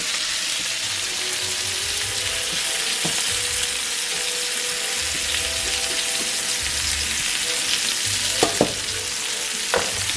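Onions frying in a pan for a T-bone steak meal, giving a dense, steady close sizzle with a few soft scrapes and taps of a utensil breaking them up near the end.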